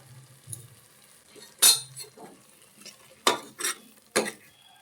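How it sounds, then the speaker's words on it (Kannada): A spoon stirs and mixes sprouted-pulse sambar with brinjal and potato in a pot, scraping softly and then giving several sharp metallic clinks against the rim, close up and without talk. "ನೀಟಾಗಿ ಮಿಕ್ಸ್ ಮಾಡಿಕೊಟ್ಟೆ."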